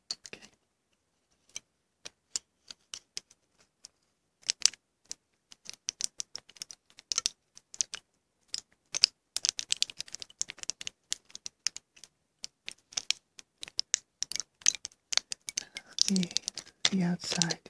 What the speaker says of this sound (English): We're going to just gently move this foil wrapper, okay?